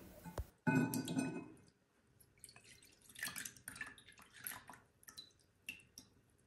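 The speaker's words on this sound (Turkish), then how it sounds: "Hazırlamış olduğum toz zerdeçal karışımı soğudu. Şimdi süzüyorum." A cooled turmeric powder mixture is poured through a strainer: a short splashy pour, then scattered drips, trickles and light clinks of glassware, quiet and close with no talk.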